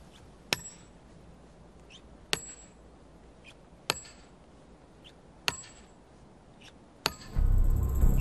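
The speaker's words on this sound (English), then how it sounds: "there's just that ring, and also you can feel it in the handle of the hammer" A hammer striking chisel into stone during carving rings out in five sharp, bright metallic hits spaced a second or two apart, each with a short ringing tail, followed by a louder rumbling burst at the end.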